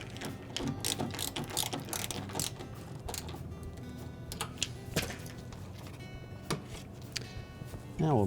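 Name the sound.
ratcheting in a 5/16 hex head screw on a refrigerator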